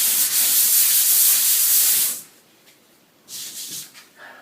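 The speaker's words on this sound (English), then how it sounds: "So I've just finished sanding this second coat of the plaster" A hand sander scrubs over a second coat of plaster on plasterboard, giving a steady, loud, hissing rasp for about two seconds, then a short pause before a briefer pass.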